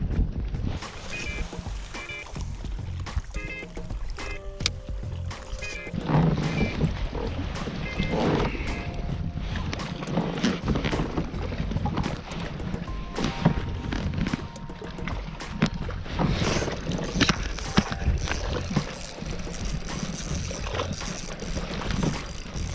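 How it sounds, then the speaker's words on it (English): Strong wind gusting steadily while fishing from a kayak on New Melones Lake, with broad blustery rushing noise and occasional water sloshing against the hull, loud and continuous for the whole stretch. "It's kind of hard when it's like super windy."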